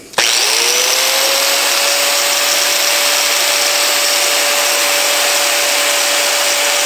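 An angle grinder fitted with a flap disc spins up and grinds steadily against a metal workbench table top. It gives a loud, close, continuous abrasive roar with a constant motor whine and no talking.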